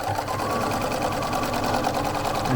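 Sewing machine running a steady zigzag stitch across a chenille baby quilt, its continuous rapid mechanical whir holding close and loud without pause.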